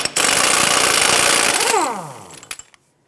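An impact wrench on a 32mm socket hammers loose the front axle nut of a 2001-2007 Ford Escape. The loud, dense rattling lasts over a second, then the tool spins down and winds to a stop.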